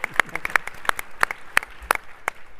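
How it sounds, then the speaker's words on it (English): Scattered clapping from a small audience at a TechCrunch Disrupt startup presentation, a handful of sharp distinct claps spaced out unevenly, fairly close and thin rather than a full roar. "one more round of applause for Strong by Form."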